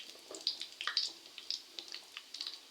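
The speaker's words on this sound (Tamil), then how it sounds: "பட்டை சோம்பு நல்லா பொரிஞ்சிருச்சுங்க" Cinnamon and fennel seeds spluttering in hot oil for a village-style chicken curry, a close, light crackle of small irregular pops over a soft sizzling hiss.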